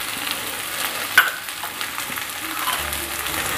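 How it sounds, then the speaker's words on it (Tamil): Egg being mixed into noodles frying over high heat, a steady dense sizzle with scraping stirs and one sharp clack of a utensil against the pan, no talking. "இந்த எக்கை வந்து ஆட் பண்ணி நம்ம மிக்ஸ் பண்ணிடலாம்"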